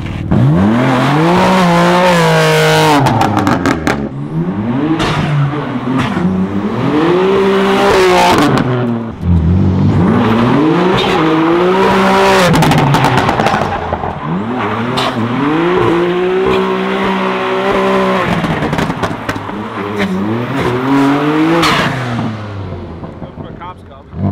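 A BMW drift car with an RKTunes setup drives hard, its engine revving up and down in repeated loud sweeping pulls with tire squeal between them, while people talk over it.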